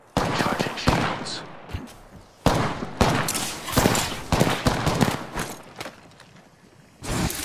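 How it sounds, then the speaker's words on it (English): Enemy gunfire in a video game: dense bursts of loud automatic shots and fusillades in quick succession, broken by brief lulls, with some overlapping game speech. "They're shooting at me?"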